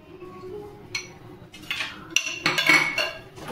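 A spoon scrapes and clinks against a pan while semolina cooks in ghee, irregular light metallic taps and scrapes close by, rising in a busy cluster toward the end, with no one talking.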